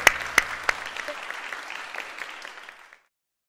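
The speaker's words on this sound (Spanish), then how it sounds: "Démosle un aplauso a Fafá" Audience applause for Fafá Franco breaks out with a few sharp claps at the start, then settles into steady, moderately loud clapping that tapers off and stops just before three seconds.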